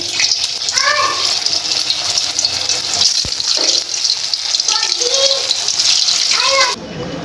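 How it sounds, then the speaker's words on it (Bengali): Onions being washed under running water in a home kitchen, a continuous bright rush of splashing water with brief clinks and handling noises, close and steady throughout before cutting off near the end. "ধুয়ে নিচ্ছি পরিষ্কার করে"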